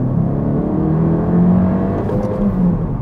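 A Honda Civic FK7 turbo engine under throttle, heard from inside the car as a loud, steady low drone with a slowly rising engine tone and continuous road rumble, no talking.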